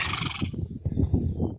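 Horse neighs in a rural homestead setting, a bright whinny at the start followed by low snorting and shuffling sounds close by.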